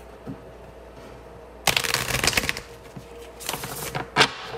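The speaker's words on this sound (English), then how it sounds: "But as always, I'm going to go ahead and shuffle live." A deck of tarot cards is shuffled by hand during a reading, with a quiet lead-in, then crisp riffling bursts near the microphone and a final short snap of cards.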